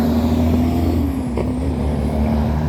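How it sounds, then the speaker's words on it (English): A loud truck rumbles past close by at a rail yard, a steady heavy engine drone with a sustained low tone throughout, no speech over it. "Loud truck."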